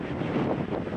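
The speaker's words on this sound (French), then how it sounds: "Un vent à rendre dingue" Strong wind buffeting a microphone while cycling on a round-the-world bike trip, a brief, fairly quiet rumbling roar with uneven gusts.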